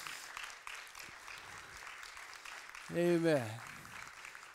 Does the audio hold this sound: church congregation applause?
yes